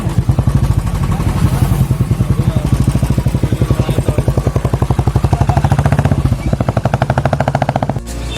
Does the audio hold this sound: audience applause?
no